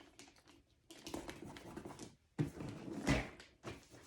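Adhesive tape is pulled off the roll and pressed onto a wrapped gift, with several close bursts of rustling, crackling and tearing separated by short pauses and no talk.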